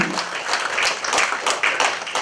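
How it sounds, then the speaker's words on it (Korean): An audience at an academic seminar claps in a short burst of applause, the individual claps fairly close and uneven, with a brief voice at the very start. "여기서도 박수를 한번 치셔야 됩니다."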